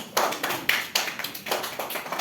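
A second-grade classroom of children clapping for a student taking her seat during a word contest, a short burst of uneven, fairly close hand claps with a few distinct louder strikes.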